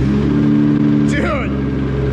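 A Nissan GT-R engine idling with a deep, steady rumble close by, a brief rising rev breaking through midway, and people talking over it.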